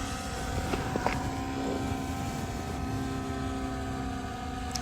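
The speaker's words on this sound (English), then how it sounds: "I hear a plane approaching." A propeller aircraft approaching overhead in open country near a valley, a steady droning engine hum with a faint rising whine, continuous and moderately loud for the whole stretch with no talking.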